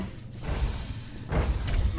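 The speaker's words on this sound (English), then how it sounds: "Elevator, lift." An elevator moving in the video game Mass Effect on the corporate world Noveria gives a steady mechanical creaking hum, swelling louder near the end as the car travels.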